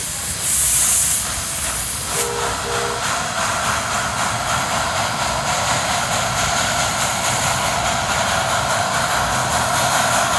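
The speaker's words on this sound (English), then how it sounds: "just as the big train pulled in, the medium one departed" Steam train pulling out of the station at Hesston Steam Museum during its Steam and Power Show, with a loud, steady steam hiss and rumble and a short whistle tone early on.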